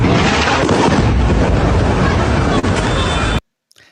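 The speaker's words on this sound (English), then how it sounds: "the explosions were too loud" Loud, dense blasts and rumbling from footage of apartment buildings being struck in Lebanon, a continuous roaring wall of explosion noise for over three seconds that cuts off abruptly into near silence.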